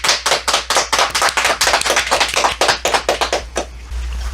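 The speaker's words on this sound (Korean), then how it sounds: "박수로 청해 듣겠습니다" Close, loud applause from a small audience welcoming a lecturer to a Christmas health talk, with distinct rapid claps in a dense rhythm that thin out and stop near the end.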